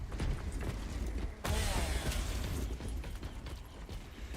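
Mechanical clanks and a ratcheting pickup as a heavy bolt pistol is grabbed in Warhammer 40K Space Marine 2, a sharp metallic clatter midway over steady game noise.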